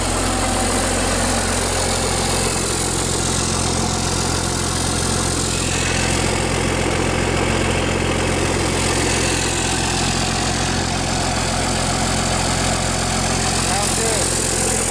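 A 1977 Freightliner cabover truck's diesel engine idles steadily with a deep, constant rumble and a leaking exhaust at the bottom, running unbroken throughout at close range with no pauses.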